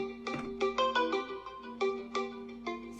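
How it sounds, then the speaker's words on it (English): A smartphone rings after the Realme Band 2's find-my-phone feature is triggered: a loud, repeating melodic ringtone with bright, evenly spaced tone bursts, heard alone and close by with no talking. "Now find my phone, where it would actually send a nudge to your smartphone."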